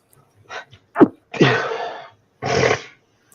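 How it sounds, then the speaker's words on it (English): A person gives a short sniffle followed by a sharp sneeze, then two more drawn-out, breathy sneezes close to the microphone, with quiet pauses between them. "This dude sniffling, sneezing."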